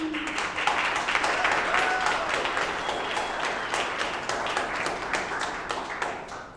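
A round of applause from the audience at the grand opening ceremony of the Rainey Institute in Clark-Fulton, dense clapping that stays loud and steady throughout, with a brief faint voice at the start.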